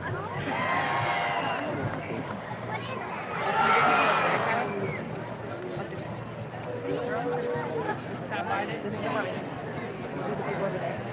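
Crowd chatter at a Renaissance fair jousting event rises into a brief swell of cheering, with voices talking throughout and a lively outdoor babble continuing afterward.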